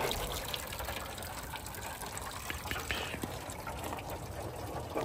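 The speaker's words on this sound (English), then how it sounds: "here's the drain plug, and we just let it drain for now" Coolant drains from the drain plug of a car radiator in a steady, gushing pour that runs evenly throughout. A voice talks faintly underneath.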